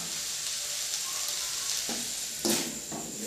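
Homemade noodles sizzle steadily in a frying pan as they are stirred, with a few scraping stir strokes standing out near the end.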